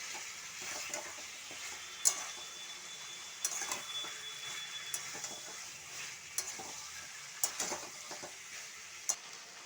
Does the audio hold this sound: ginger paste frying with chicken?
yes